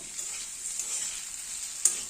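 Potato pieces fry with whole spices and cumin seeds in hot oil, giving a soft, steady sizzle with light crackles and a brief scrape as they are stirred.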